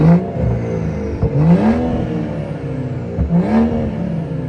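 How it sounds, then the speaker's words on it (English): A BMW with the B58 engine revs in sport mode, two rising throttle blips climbing from a low idle rumble to a higher whir, close and fairly loud, with idle between them. "I love the fact that the B58 takes a little bit longer to rev up."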